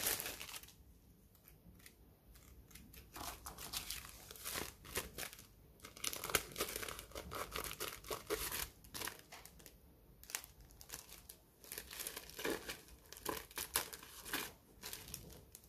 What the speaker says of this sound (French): Des ciseaux cranteurs.